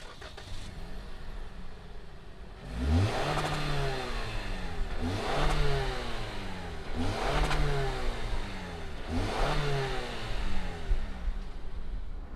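A 2020 Toyota RAV4 TRD Off Road engine fires up, then revs repeatedly in several rising and falling bursts, loud and close, settling back to idle between each.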